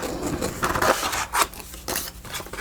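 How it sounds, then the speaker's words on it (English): Scissors snipping through paper during craft fussy cutting, several quiet crisp cuts and slides in uneven rhythm, close by with no talking. "I love these scissors, but they are not good fussy cutting scissors."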